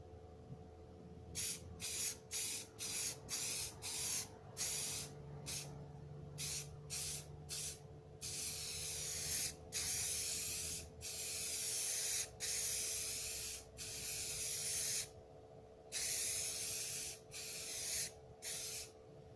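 A spray gun painting a car hisses in repeated bursts, some short and some long, with brief pauses between passes, close and steady.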